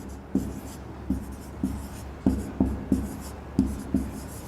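Handwriting on a board or paper as names are written out: a series of short scratchy strokes in uneven rhythm, close and distinct, with no talk over them.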